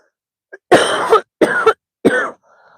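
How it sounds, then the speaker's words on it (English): A person gives three harsh, close coughs in quick succession after a small throat sound, with a faint breathy exhale trailing off in an otherwise quiet room. "And apparently shake the matrix by coughing this morning."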